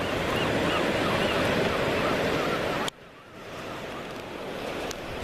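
Ocean surf washes over tidepool rocks on the Oregon coast at Heceta Head, a loud, dense roar that cuts off abruptly, then rebuilds as a softer rushing wash, close to the microphone with some wind noise.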